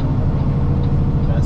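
Heavy diesel drone of a Kenworth T880 truck with a 10-speed transmission, held steady and close while the driver skips gears on a downshift, with a low continuous rumble throughout.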